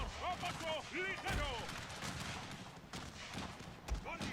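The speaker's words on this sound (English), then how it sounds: "Cannons, all canister and fire at will." Cannons loaded with canister shot fire in a Napoleonic-era Total War battle between Mexican and French armies, a ragged burst of booms and crackling volleys over battlefield noise, with shouts mixed in.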